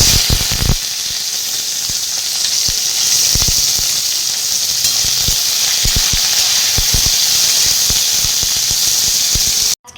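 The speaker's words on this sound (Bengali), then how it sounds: "এই দিয়েই মশলা এটাকে ভালো করে ভাজবো" Cumin seeds and bay leaf frying in hot oil, a constant loud hiss and sizzle with scattered pops and crackles near the pan, ending in a brief abrupt cutoff.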